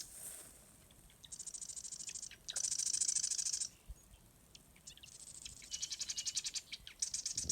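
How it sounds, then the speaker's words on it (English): High, buzzy bird calls trade off in bursts, some trilling and pulsed, heard outdoors in a California wetland and grassland at a moderate distance with quiet gaps between. "the birds are still making their calls to each other. You can hear back and forth calls"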